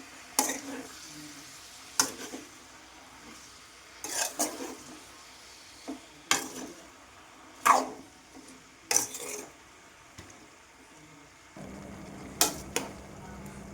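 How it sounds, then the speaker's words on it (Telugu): A ladle scrapes and knocks in a pan of brinjal tomato curry, with roughly eight sharp, separate stirring clanks spaced a second or two apart over a low background hum. "గరిటతో ఒకసారి అయితే తిప్పేద్దాం మొత్తంని"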